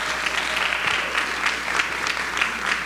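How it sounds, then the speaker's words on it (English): Audience applause for honored students at a Camden City Public Schools advisory board meeting, a steady, dense wash of many hands clapping throughout, moderately loud and filling the room. "them a round of applause, please."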